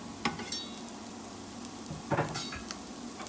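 Garlic added to a pan after onions while making chili con carne, a soft steady sizzle with a few light stirring clinks and scrapes of a utensil against the pan.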